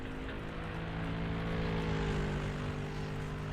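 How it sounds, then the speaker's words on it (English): Twin 100 horsepower outboard motors on a boat at the Goodwood Festival of Speed run with a steady, loud droning hum that holds evenly throughout, with no talk over it. "Have a look at the two outboards at work."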